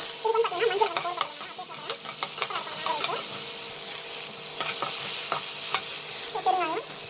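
Lentils, green chili, curry leaves and onion sauté in a hot pan, giving a steady bright sizzle broken by scattered clicks and scrapes of stirring throughout.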